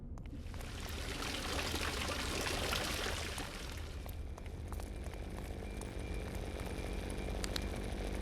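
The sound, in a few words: water pouring from spout in video game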